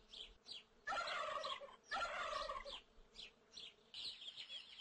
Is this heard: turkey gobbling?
yes